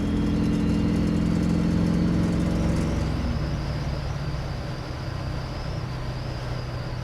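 A 1984 GMC Sierra C/K 1500 pickup truck drives along with a steady engine hum and road rumble that eases slightly after a few seconds, heard from inside the cab with no talk.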